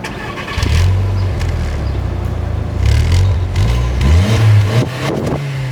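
An Audi TT Roadster engine fires up and revs, a steady close-up engine drone with rising and falling pitch as the throttle is worked, running alone without talk.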